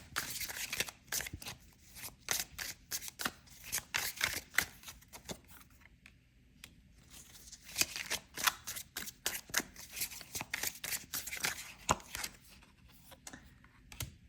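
Oracle cards being shuffled and handled up close: quick bursts of crisp riffling flicks and soft slaps, pausing briefly and then starting again, with quiet rustling between the bursts and no speech.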